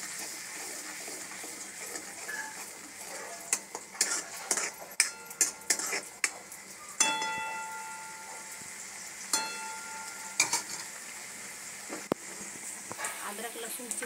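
Ginger-garlic paste sizzles in a pan while pav bhaji is made, a soft steady frying hiss broken by a run of sharp spoon scrapes and clinks against the pan in the middle.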